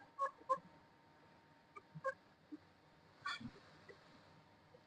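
Chickens cluck in short, scattered bursts, a few calls at a moderate distance over quiet background, with no talking.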